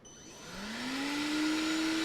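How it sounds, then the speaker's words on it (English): A Ryobi 40V shop vacuum switched on at its low speed setting, its motor spinning up with a rising whine that settles into a steady, moderately quiet hum, heard alone. "That's a relatively quiet vacuum."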